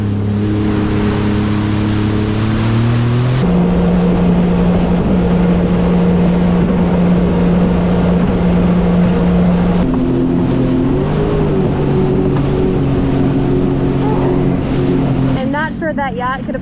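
Jet ski riding across the sea off Bimini, Bahamas: a steady, loud engine drone with shifting pitch as the throttle changes, wind and water noise throughout, and a brief voice near the end.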